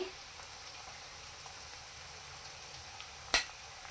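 Chopped onion with red chili powder and a pinch of turmeric sautéing over medium heat, a faint, steady sizzle with a single sharp clink near the end.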